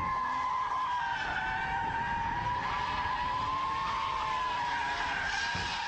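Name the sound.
car tires skidding in a power slide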